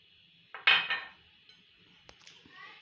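A utensil works through chocolate muffin batter in a bowl after cocoa powder is added, giving a few quiet clinks and a brief scrape against the bowl, with pauses between them.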